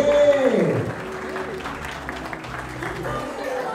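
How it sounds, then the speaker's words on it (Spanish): Guests applaud at a quinceañera celebration, with steady clapping under music and a voice on a microphone. A tone sweeps at the start, and the clapping holds at a moderate level throughout. "Los aplausos, que se escuche bonito,"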